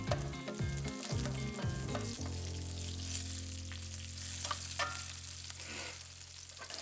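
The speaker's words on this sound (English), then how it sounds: "Fry them till dal turns to golden brown." Dal fries in oil in a pan for a beetroot coconut fry, a steady close sizzle with crackling pops and occasional stirring scrapes, over a sustained low background hum and no talking.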